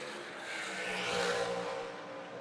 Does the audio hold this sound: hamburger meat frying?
no